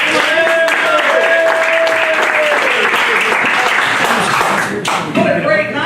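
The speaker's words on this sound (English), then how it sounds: "Keep clapping, people." A show crowd keeps up thick, continuous clapping and applause with scattered whistles and shouts, briefly dipping near the end before swelling again.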